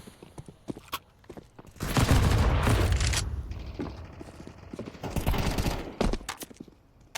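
Sustained bursts of AK rifle spray in a Counter-Strike 2 LAN match, two loud dense volleys separated by a brief lull, with scattered in-game clicks and footsteps around them.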